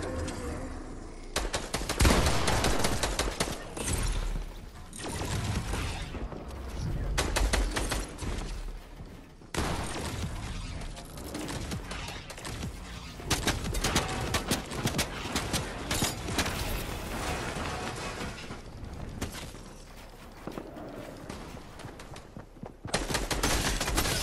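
Assault rifle gunfire in Fortnite, heard as dense bursts of rapid shots and crackling volleys that continue almost nonstop, with a brief lull near the middle.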